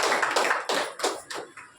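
A church congregation at an evening service claps for the Lord in a quick burst of several uneven waves of clapping, fairly close, with no talking over it.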